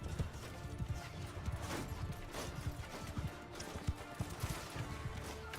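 Cavalry horses gallop in the Mount & Blade II: Bannerlord video game, a dense, continuous patter of hoofbeats with scattered clashes, fairly faint and without talk.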